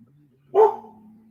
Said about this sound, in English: Groot and Sandy, stop barking at the neighbor.